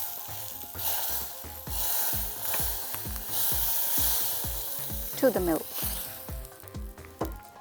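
Vermicelli and nut mixture sizzles and crackles steadily as it is stirred into milk, with a soft rhythmic stirring pulse running underneath and brief talk near the end.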